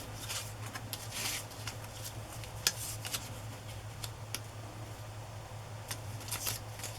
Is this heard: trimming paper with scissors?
yes